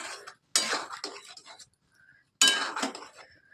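Chicken being stirred in a pan with tomato ketchup and kasuri methi for butter chicken, heard as two loud bursts of utensil scraping and clinking against the pan separated by quiet gaps.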